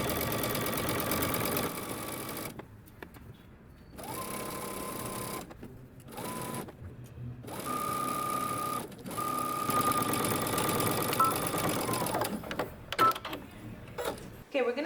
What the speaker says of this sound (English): we're going to stitch using 5/8 of an inch seam allowance all the way around